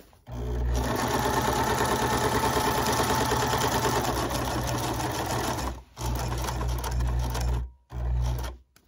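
A sewing machine stitches fabric in a steady, close mechanical whir, stopping briefly twice as the piece is turned at the corners, then running again.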